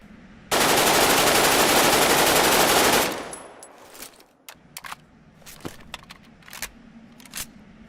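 Rifles firing in a zombie survival video game: one loud, sustained automatic burst lasting a few seconds, then quieter scattered clicks and small mechanical sounds with no talking.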